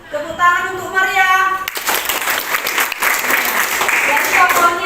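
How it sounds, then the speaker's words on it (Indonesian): A voice speaks briefly before a classroom group breaks into loud applause for a student in a school drama lesson, the clapping lasting steadily to the end. "Ya, tepuk tangan untuk Maria."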